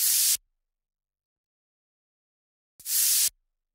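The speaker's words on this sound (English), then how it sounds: "I added some white noise." Two short bursts of hissing white noise in a deep house track, each about half a second, separated by silence.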